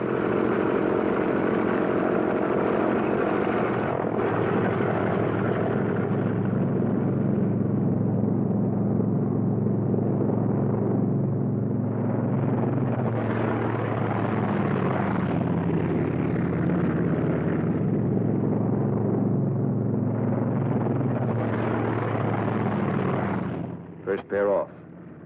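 P-47 Thunderbolt fighter planes taxi out on an airfield, their piston engines giving a loud, continuous droning rumble that swells and eases throughout, briefly cutting off near the end.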